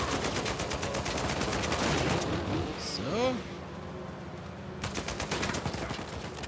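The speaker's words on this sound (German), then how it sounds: "die schießen von allen Seiten" Rapid gunfire crackles from all sides in the Uncharted 4 video game, dense bursts of automatic shots that pause briefly mid-clip around a whooshing effect and then resume, heard at moderate loudness.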